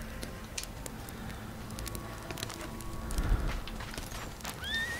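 A horse on a ranch neighs and whinnies while hooves clip-clop steadily close by, with a louder thump partway through and a rising whinny near the end.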